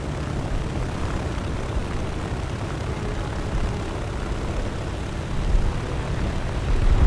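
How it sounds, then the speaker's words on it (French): Steady engine drone of a Russian plane in a video game, a constant broadband roar holding even throughout with a slight swell near the end, no voices. "ça commence à beaucoup trop haute altitude cet avion"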